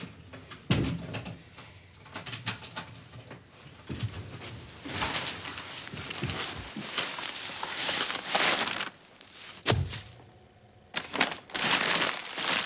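Sheets of paper being crumpled and scrunched up by hand to lay a fire, with a continuous crackling rustle broken by a few sharp knocks and pauses.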